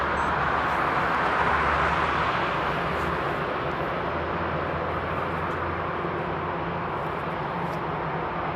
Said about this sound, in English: the sound of the planes will be very dim